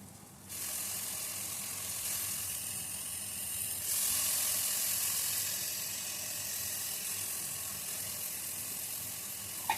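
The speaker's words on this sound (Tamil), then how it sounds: "இஞ்சி பூண்டு விழுது பச்சை ஸ்மெல் மாறுற வரைக்கும் நல்லா வதக்கிட்டு" Ginger garlic paste and mint sauté in a hot pan, a continuous hissing sizzle that swells slightly partway through, with no talking.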